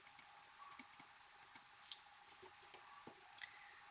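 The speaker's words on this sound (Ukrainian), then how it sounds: "Стаємо сюди, нажимаємо F3." Faint clicks of a key pressed on a computer keyboard, a handful of light, separate taps spread out in a quiet room with soft background hiss.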